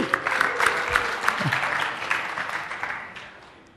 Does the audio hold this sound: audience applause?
yes